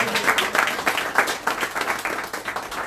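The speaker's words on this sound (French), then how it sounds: "je voudrais que vous vous applaudissiez vous-même" An audience applauds throughout, bursts of clapping from a moderate-sized crowd at a lecture event, fairly close and steady with uneven peaks.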